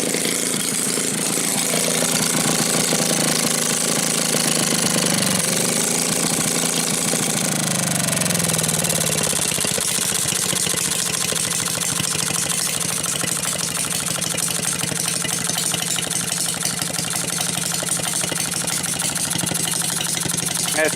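Maytag model 72 washing machine engine idling steadily with its muffler removed, a loud, continuous close-up putter with a slight change in tone partway through.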